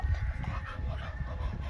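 A Staffordshire bull terrier vocalizes close by in a short, steady stretch of low whines and panting-like sounds, with no clear speech over it.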